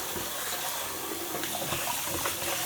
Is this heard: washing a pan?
yes